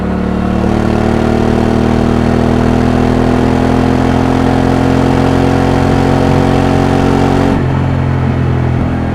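A motorcycle engine hums steadily during a ride, processed to strip away wind noise, leaving a clean continuous drone with layered low harmonics that shifts slightly near the end; no voices.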